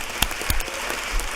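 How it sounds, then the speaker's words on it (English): A church congregation clapping hands, heard as a few scattered, sharp claps rather than sustained applause, moderately close in the room. "If you love the Lord, clap your hands."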